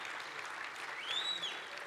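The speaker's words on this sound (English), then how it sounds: "And you can give them a round of applause too." Crowd applause at an EVE Online Fanfest 2009 PVP tournament prize ceremony, steady dense clapping from a large audience with a brief whistle partway through.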